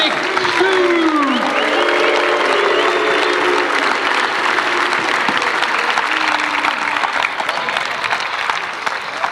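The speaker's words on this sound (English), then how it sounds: "Give him a round of applause and a big Stu!" A crowd gives loud, continuous applause with cheers and whoops for the guest of honour at a 1991 tribute night, dense clapping under shouted voices throughout.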